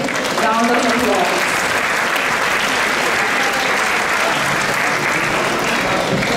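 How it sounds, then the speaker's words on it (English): Audience applause at a temple New Year program, dense and steady clapping filling the room for the whole stretch, with some voices mixed in among the crowd. "So a big round of applause"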